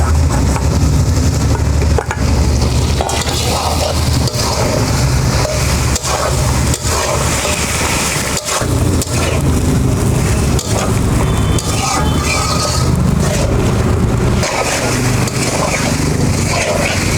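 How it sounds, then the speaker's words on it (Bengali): Chicken pieces fry in oil and get stirred with spices in a pan for a Bengali chicken curry with potatoes and kohlrabi, giving a loud, continuous sizzle broken by scraping and stirring noises. "মশলার সাথে চিকেনটা কষাবো যতক্ষণ না চিকেনের কাঁচা গন্ধটা"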